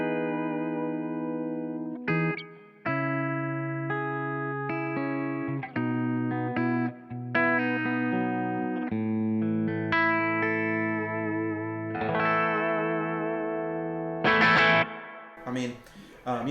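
A Suhr JM Pro electric guitar played through its bridge pickup with a P90-like tone rings out in a run of clean to lightly driven notes and chords, with short pauses between phrases and a brighter strum near the end.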